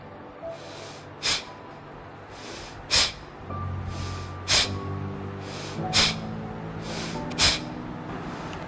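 Slow, deep breaths during a home stretching exercise: sharp nasal inhalations and longer exhalations alternate in a steady rhythm about every one and a half seconds, close and fairly loud.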